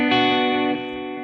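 Electric guitar chord played on the middle pickup, brighter and thinner in tone, ringing out briefly with effects before decaying after under a second.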